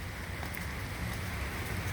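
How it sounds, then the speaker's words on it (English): Outdoor rain falling steadily, a soft even wash of drops with no pauses or voices, fairly faint throughout. "Now it started raining."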